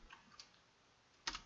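A few soft keystrokes on a computer keyboard, typing a command for VNC setup on a Raspberry Pi running Kali Linux, faint and sparse, ending in a louder key press.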